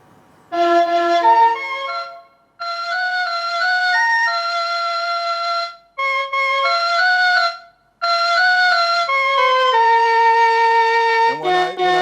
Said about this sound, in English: I came up with the melody from the flutes